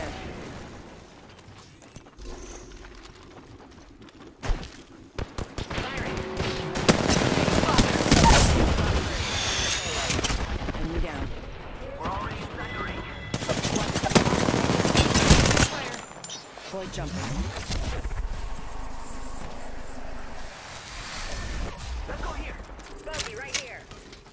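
Video game gunfire in Apex Legends: loud sustained automatic bursts and rapid shots come in waves, with booms and mechanical clanks between them, while voices talk over the action.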